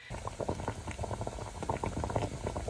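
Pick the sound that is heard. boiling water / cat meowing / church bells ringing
boiling water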